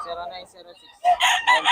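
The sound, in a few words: gamecock rooster crowing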